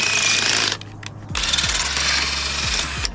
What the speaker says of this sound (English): you drill into the bushing like this